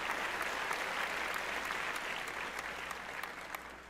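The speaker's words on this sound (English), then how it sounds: "That's probably the only time that you'll hear the fake applause." Canned applause sound effect plays on a radio show, a steady dense wash of clapping and crowd noise at constant loudness from start to finish.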